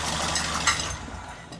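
The engine of a Mark 1 Ford Escort running, a fairly loud, steady mechanical churn with a faint metallic clink partway through, and no talking.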